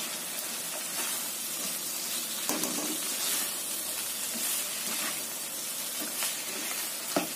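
Bean sprouts are stir-fried in a wok for kwetiau goreng, giving a loud, continuous sizzle and hiss. Occasional scraping thuds of stirring break through it, up close and with no talking.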